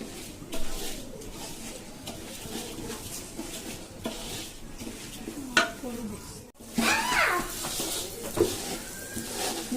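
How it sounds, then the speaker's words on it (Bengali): Chinigura-style rice for a biryani is dry-fried and stirred in a pot, giving a steady gritty rustle and scraping with occasional louder clatters of the spoon against the pot. "আমি চালটা একটু ভাজা ভাজা করতে থাকি।"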